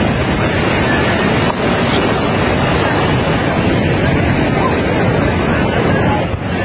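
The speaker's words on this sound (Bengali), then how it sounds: "আপনারা কি শুনতে পাচ্ছেন উত্তাল সমুদ্রের প্রতিটি ঢেউয়ের তর্জন গর্জন?" Surf washing in continuously on Cox's Bazar beach, a steady broadband roar of breaking ocean waves mixed with wind buffeting the microphone, loud and unbroken throughout.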